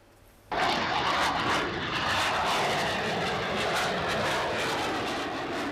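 Military jet aircraft at an Italian Air Force open day at Istrana erupt into a loud, sustained engine roar after a brief quiet start, holding a steady rumbling thunder for several seconds with no voices.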